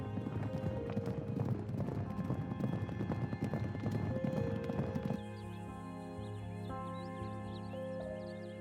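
Horses gallop with steady, dense clip-clopping hooves and whinnying on the Kazakh steppe, loud and close for about five seconds before the hoofbeats stop and only a softer ambient bed remains.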